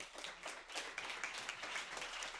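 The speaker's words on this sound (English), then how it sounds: "Big applause for Yarda." Audience applause closing a talk on team culture: dense, steady clapping from a crowd, moderately distant and fairly quiet, sustained without voices.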